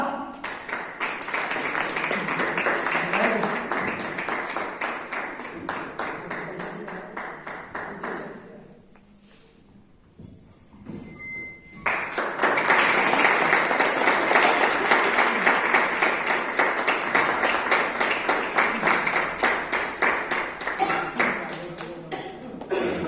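Indoor applause from an audience at a national EMI tour event in Jim Corbett National Park, Uttarakhand: a long stretch of dense clapping breaks off briefly in the middle, then a second loud, sustained round of applause follows.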